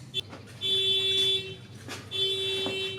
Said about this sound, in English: when that car alarm goes off